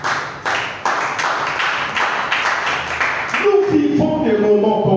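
A church congregation applauds for the Lord in rhythmic, unison claps that beat steadily for several seconds. The clapping then fades beneath louder singing or voices.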